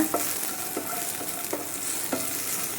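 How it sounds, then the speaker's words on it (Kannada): Frying in a pan on low flame, with a steady sizzle and short scraping knocks from stirring at irregular intervals, close and fairly quiet, with no talk. "ಈ ರೀತಿಯಾಗಿ ಫ್ರೈ ಮಾಡ್ಕೊಳ್ಳೋಣ."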